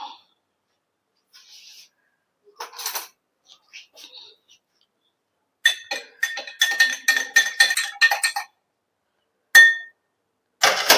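Hibiscus water is stirred into a liquid in a glass container, giving sparse light clinks at first and then a run of quick, bright, rhythmic glass taps from a spoon, with quiet pauses between.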